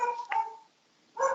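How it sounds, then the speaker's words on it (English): A dog barks somewhere during an indoor council planning committee session, giving a couple of faint, distant barks and yips separated by a short gap, with no talk over them. "There's a dog barking somewhere."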